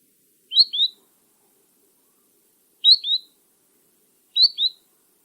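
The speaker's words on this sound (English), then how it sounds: "they do that sort of weet weet sound when they're flying as well" Three short, high two-note calls from a shorebird ring out alone, evenly spaced with quiet gaps between them.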